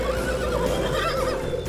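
A cartoon horse gives a loud, close neigh with wavering whinnies, while faint hoof clops sound underneath, and no one speaks.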